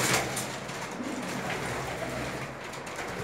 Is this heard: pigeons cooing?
yes